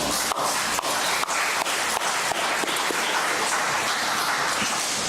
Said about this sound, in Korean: 우리 박수 한번 하십시다